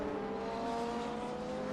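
A race car passes on track at Circuit of The Americas, a steady distant engine drone with tonal harmonics, heard alone.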